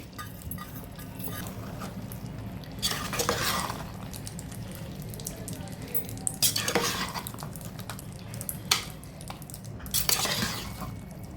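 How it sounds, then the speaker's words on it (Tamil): Soaked dal being stirred into chicken masala in a pan, with a low steady simmer and three bursts of spoon scraping against the pan at intervals, close and moderately loud, no voices. "இந்த தாலை இதோட நல்லா மிக்ஸ் பண்ணிவிட்டு"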